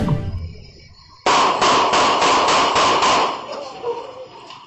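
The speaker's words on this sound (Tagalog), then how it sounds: "Binulabog ng sunod-sunod na putok ng baril ang bahaging ito ng Barangay Graceville sa San Jose del Monte, Bulacan" A rapid series of about seven sharp gunshots, caught on CCTV in a residential barangay of San Jose del Monte, Bulacan, cracks out in an even rhythm over two seconds, loud against quiet street ambience.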